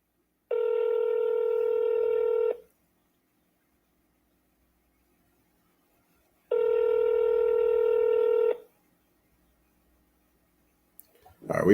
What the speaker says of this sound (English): can you hear the phone dial? Do you hear it ringing?